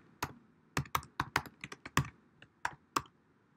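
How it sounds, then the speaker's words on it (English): Clicky keystrokes on a computer keyboard, a quick irregular run of about a dozen close taps typing a short phrase, with no talking. "I'm going to type in student DJs."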